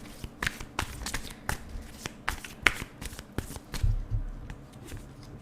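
Tarot cards are shuffled and drawn by hand, a close series of crisp riffling flicks and soft taps in an irregular rhythm, with no talking.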